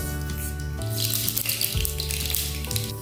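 Mustard seeds crackle and sizzle in hot coconut oil, a loud, dense spattering hiss that swells and fades over a few seconds, close up and without talk.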